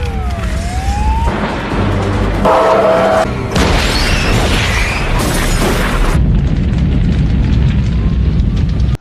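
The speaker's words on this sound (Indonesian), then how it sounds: "menabrak sebuah pesawat dan terjadilah ledakan yang sangat dahsyat" A loud, dramatic explosion sequence as a bus crashes into a plane, with booming blasts, crashing debris and a roaring rush of noise that fades into a low rumble.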